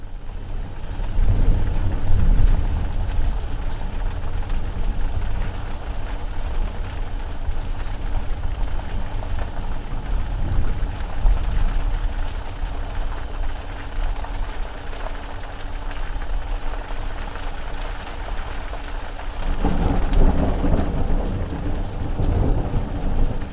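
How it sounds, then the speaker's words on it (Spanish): Heavy rain pours steadily inside an Egyptian temple during a thunderstorm, with low rumbles of thunder rolling through near the start, around the middle and again near the end, and no voices. "se desató una gran tormenta que incluso me impidió salir del propio templo donde estaba dentro"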